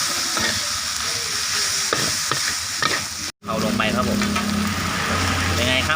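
Frog red curry with fresh peppercorns stir-fried in a pan: a loud, steady sizzle with scraping and tossing from the spatula, broken by a brief pause midway, then resuming with someone talking over it.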